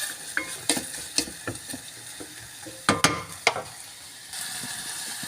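Onions and garlic sizzling in a pot as the base for a lamb curry, a soft steady fry broken by sharp clacks and scrapes of a utensil stirring against the pot.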